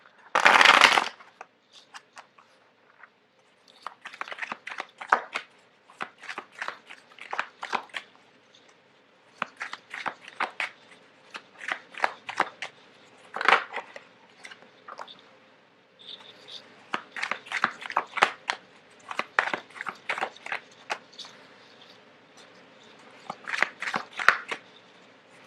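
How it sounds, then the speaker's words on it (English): Tarot cards shuffled on a tablecloth again and again in quick riffling bursts with short pauses, close and fairly loud, with no talking. "it's really difficult to shuffle on top of this tablecloth"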